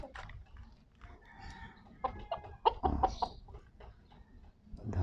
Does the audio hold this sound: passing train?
no